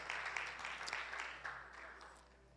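A church congregation applauds during a sermon, a broad, fairly quiet wash of many hands clapping that gradually fades out over a couple of seconds.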